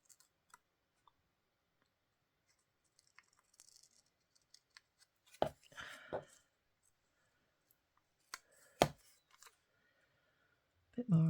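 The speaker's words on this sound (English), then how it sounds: "I think I'm just going to cut round it a bit closer." Scissors snip paper for a handmade collage, trimming closer around a cut-out shape, heard as a few sharp crisp clusters of cuts separated by quiet pauses, close by and fairly faint.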